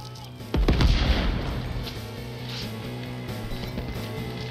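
A single heavy gunshot boom in the video game Deathloop, loud and close, its rumble trailing off over a steady low background drone.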